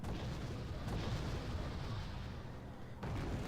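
Mortar and artillery fire in a strategy video game tournament match rumble as muffled, overlapping booms and bursts, fairly faint and continuous, with a stronger thud near the end.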